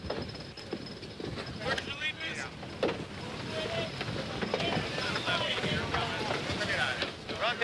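An America's Cup racing sailboat under way on open water, with steady wind and water rush throughout, while commentary-style speech runs over it.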